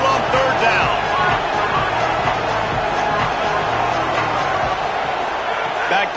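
Home crowd roars at a college football game as the defense tries to get off the field on third down. The loud, steady wall of crowd noise fills the whole stretch, with voices faintly underneath.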